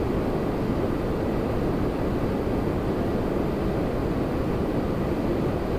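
An airliner touches down on the runway at Toronto Pearson airport, heard as a steady, even broadband roar from a distance that holds at constant loudness throughout, with no voices.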